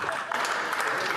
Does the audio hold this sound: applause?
yes